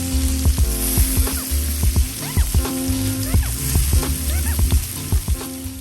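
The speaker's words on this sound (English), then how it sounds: "And now I'm going down with my sliced onion." Sliced onions hit a hot Blackstone griddle and sizzle loudly and up close, with a dense, crackling fry and repeated scraping taps of a spatula over a steady hiss.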